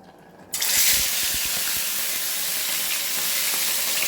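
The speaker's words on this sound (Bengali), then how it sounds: "এবার মাছগুলোকে ভেজে নেব।" Pieces of katla fish drop into hot oil in a wok and set off a loud, sudden sizzle that carries on steadily and close by, with a few clatters early on.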